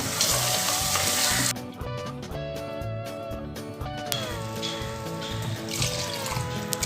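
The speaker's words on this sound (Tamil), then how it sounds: "இதை வதக்கிக்கோங்க" Loud sizzling as spice paste is sautéed in a hot pan, a bright hiss that drops and returns, with scraping stirs and bubbling underneath.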